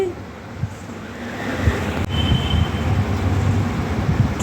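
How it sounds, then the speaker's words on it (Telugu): Lemons are rinsed by hand in a bowl of water for lemon pickle, giving a steady, close, splashy wash of water with soft sloshing swirls throughout and no talking. "ఇలా నిమ్మకాయలు తీసుకొని నీళ్ళు వేసి ఇలా శుభ్రంగా కడుక్కోవాలి"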